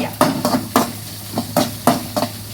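Food sizzling and being stirred in hot oil in a pan, a series of short crackling bursts about every third of a second, close and fairly loud.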